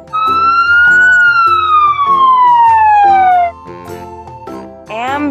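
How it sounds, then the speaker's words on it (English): A single loud ambulance siren tone slides slowly downward over light background music, followed by brief chiming. "Ambulance."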